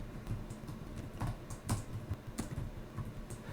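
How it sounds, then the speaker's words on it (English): A computer keyboard is typed on in a steady run of soft clicks, close by, over a constant low background hum. "So now we type"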